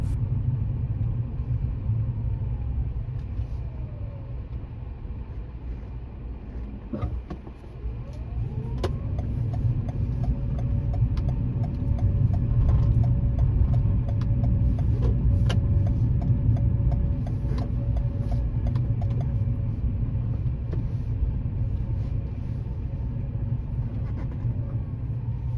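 A car drives along a road during a practical driving exam, moving cautiously past a bus; its steady engine rumble and road noise hold throughout at moderate level, with faint ticking of an indicator and no talk.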